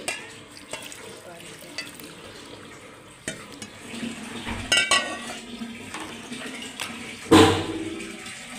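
Bitter gourd being fried in a pan for a dry bitter-gourd dish: a soft sizzle with scattered metallic clinks and stirring scrapes, one sharper clatter near the end, all fairly quiet.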